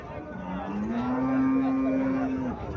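A Sahiwal cow lets out a single long, low moo, steady and close, lasting a couple of seconds.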